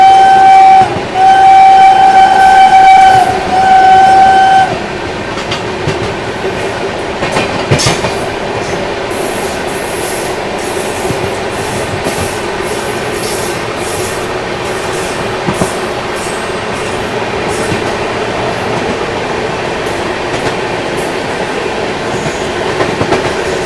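Sabarmati Express racing past at speed on an Indian railway, opening with a long steady horn blast, then a loud sustained rumble of passing coaches with rhythmic wheel clatter and metallic squeals, heard up close.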